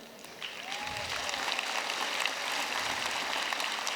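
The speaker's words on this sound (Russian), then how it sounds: "Похлопаем волонтерам нашим." Broad, continuous applause from a large crowd at the closing ceremony of the Children of Asia Games in Yakutsk, honoring volunteers, steady and somewhat distant like a rain-like wash.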